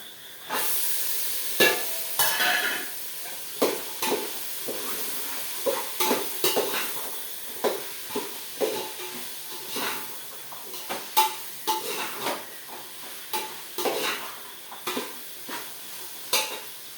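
Chopped potatoes, carrots and beans sizzle in an oiled pan while a spoon stirs and scrapes them in repeated bursts of knocks, close and steady throughout.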